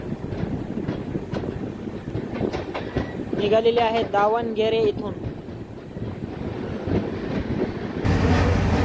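The Karnataka Sampark Kranti Express runs slowly on its rails after leaving Davangere station, making a continuous rumbling clatter with rhythmic wheel knocks heard from inside the coach while someone talks over it.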